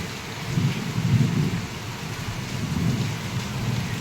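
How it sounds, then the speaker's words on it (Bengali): Steady rain hisses throughout while deep rolling thunder rumbles in slow swells, louder near the start and again toward the end. "ফাইনালি বৃষ্টি শুরু হয়ে গেছে"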